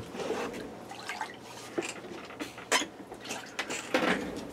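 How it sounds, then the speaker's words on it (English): Soda ash solution trickles and drips off freshly soaked tie-dye fabric, with soft irregular splashes and small taps close by in a quiet room, no talking. "We'll let a little bit of the soda ash drain off."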